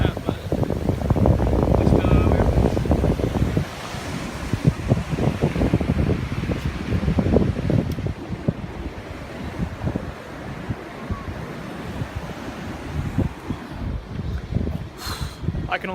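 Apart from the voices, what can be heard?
wind on the beach buffeting the microphone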